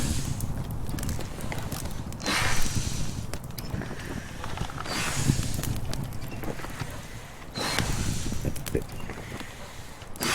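Horse hooves clip-clopping in the medieval game Medieval Dynasty, an uneven run of soft hoof steps on the ground with gusts of wind rising and falling around them, fairly close and moderately loud.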